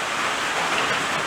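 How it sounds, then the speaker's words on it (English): Steady rain falls outside a workshop as a loud, even hiss of dense drops, continuous and unbroken throughout. "Let me apologise for the rain noise"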